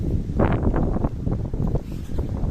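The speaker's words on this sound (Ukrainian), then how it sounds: "не можу я вже боротися з цим вітром" Strong gusts of wind buffet the microphone beside a pond whipped into foamy waves, with bending trees nearby; a loud, continuous roaring rumble with surging gusts and no talking.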